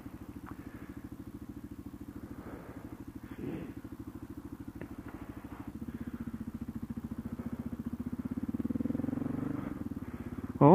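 A heavy police motorcycle putters with a steady, pulsing beat throughout and grows louder and fuller toward the end as the bike draws near. No voices are heard.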